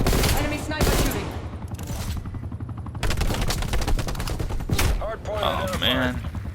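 Sniper and rifle fire in the Call of Duty: Black Ops Cold War Hardpoint multiplayer match: dense, loud bursts of game gunfire that keep going across the stretch, with a few sharper shots and brief lulls in the shooting.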